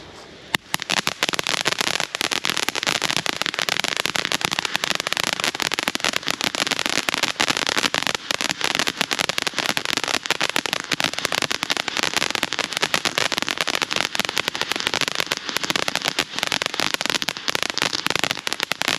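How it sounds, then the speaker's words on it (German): A large Weco volcano fountain firework burns outdoors with a dense, continuous hissing crackle that holds steady and loud for the whole stretch after a brief quiet start. "Wir haben hier einen riesen Vulkan von Weco."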